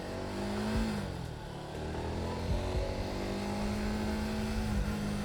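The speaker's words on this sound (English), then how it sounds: "Now, if we drive right down here" Car driving along a street in Saigon, Vietnam, its engine a steady close drone with slight shifts in pitch as it moves, mixed with passing traffic and motorbike noise around it.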